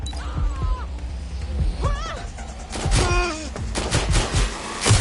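Bursts of gunfire and crashing impacts in the video game Watch Dogs: Legion rattle close and loud, mixed with shouting voices and whooshing effects.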